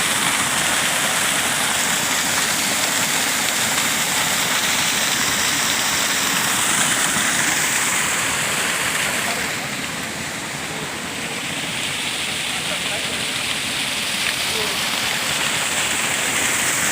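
A waterfall spilling down from Himchari hill makes a loud, dense, continuous rushing roar, close by and unbroken, dipping slightly in level partway through.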